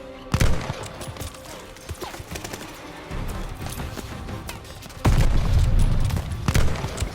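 Gunfire in the Call of Duty: Vanguard video game, bursts of rapid automatic shots and single cracks with heavy booms, loud and intensifying toward the end, a voice faintly mixed in.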